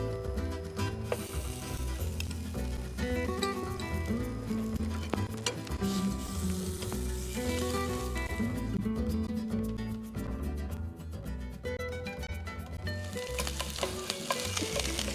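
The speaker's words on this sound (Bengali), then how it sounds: "আর রসুন কিন্তু বেশি ভাজা যায় না। রসুন বেশি ভাজলে টেস্ট নষ্ট হয়ে যায়।" Garlic sizzles and fries steadily in a hot pan while being stirred for a shredded-style home dish, a continuous close crackle with occasional scraping and clinking of a utensil against the pan, with no talk over it.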